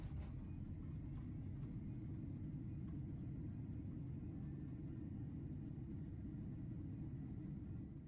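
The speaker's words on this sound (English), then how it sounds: "Upon arrival into Almaty, we had a smooth touchdown and a relatively long taxi to the terminal building." Inside an Air Astana Boeing 767 taxiing to the terminal after landing at Almaty, a faint, steady low cabin rumble of engines and rolling gear continues without a break.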